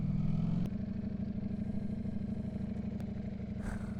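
A Ducati Streetfighter V4S idles at a technical inspection, a low, even engine burble that stays quiet and steady throughout, with a brief heavier rumble at the very start.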